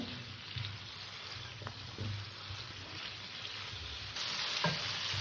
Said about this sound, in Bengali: আমার সবজিটা কষা হয়ে গেছে মশলাটা ভালো করে কষে নিলাম